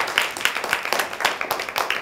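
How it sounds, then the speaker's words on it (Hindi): A group of children clapping together in a classroom, a steady patter of rapid overlapping claps at close range, with no talking over them. "ताली बजाओ एक तो सब बच्चे इनके लिए"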